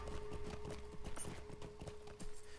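Horse hooves clip-clop steadily on a road in the Lord of the Rings Online video game, a quick even rhythm at moderate level over a constant tonal background hum.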